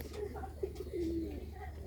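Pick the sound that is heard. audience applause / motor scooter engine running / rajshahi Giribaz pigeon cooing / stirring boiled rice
rajshahi Giribaz pigeon cooing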